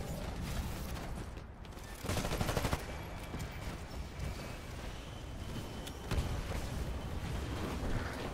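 Turret fire in the video game Titanfall, a dense, continuous rattle of rapid shots with mechanical clanks and a louder burst partway through, steady and fairly loud throughout.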